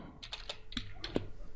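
Keys on a computer keyboard are pressed while writing code, giving a short run of distinct clicks at an uneven pace, close and moderately soft, with a faint room hum underneath.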